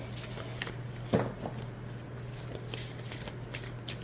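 Oracle deck cards being overhand shuffled, a short soft riffle-like burst near the start amid quiet room noise and a steady low hum, with faint scattered card taps afterward.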